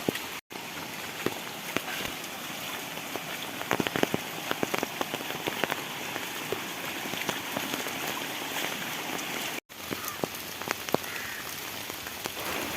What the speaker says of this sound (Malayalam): മഴ പെയ്ത് റോഡ് മൊത്തം വെള്ളം.